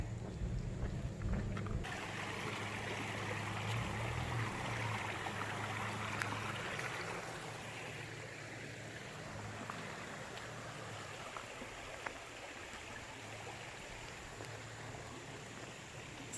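Continuous rushing water from a creek crossing in Jefferson National Forest, a broad steady wash heard from close by, with a low vehicle rumble fading out early on.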